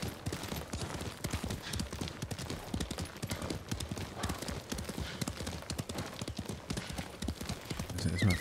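Horse galloping in the video game Ghost of Tsushima, a fast continuous clip-clop of hooves with steady rhythm, close and clear throughout, with a brief whinny near the end.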